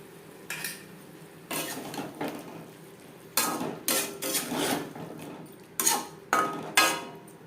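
Curd being mixed into a cauliflower and potato curry in a pot, heard as a series of loud, irregular scraping and clanking strokes of a spoon against the metal, with short pauses between bursts.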